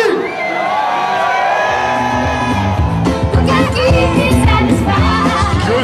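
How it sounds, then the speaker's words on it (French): A festival crowd at a feria shouts, yells and whoops together, loud and close, with overlapping voices rising into a rowdy burst of cheering that builds toward the end. "On crie, fais du bruit."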